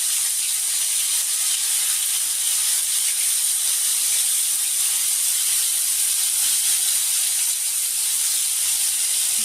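A steady, loud hiss of onion, ginger, garlic and chilli paste sizzling in hot salted oil, unbroken and close throughout with no voices.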